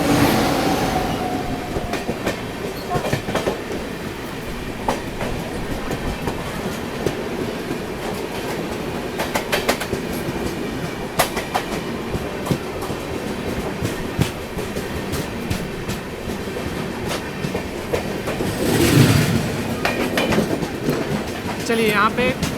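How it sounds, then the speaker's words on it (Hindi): The Korba Kochuveli Express departs and passes along the rails with a continuous rumbling roll, rhythmic wheel clatter and a brief squeal near the end, with a person talking over it. "यहाँ पे कोरबा कोचुवेली, जिसे कि तिरुवनंतपुरम सेंट्रल भी कहते हैं, एक्सप्रेस का डिपार्चर हो रहा है"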